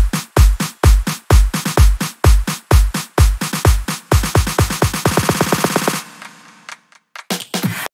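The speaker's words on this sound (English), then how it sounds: "The drums here are pretty simple. They sound like this." A simple future bounce drum loop built in Ableton Live 11 punches out rapid, evenly spaced hits with deep kicks, speeding into dense rolls before a short gap and a final few hits.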